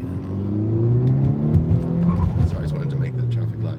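A car accelerates hard to make a traffic light, its engine droning loudly and climbing with a hint of tire squeal, while people talk over it.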